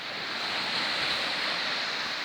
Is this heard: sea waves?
yes